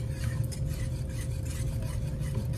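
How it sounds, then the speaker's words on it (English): Custard mixture stirred in a pot on the stove, a steady scraping and rubbing of the spoon against the pan, close and continuous with no talk. "let me make sure I get that all stirred in"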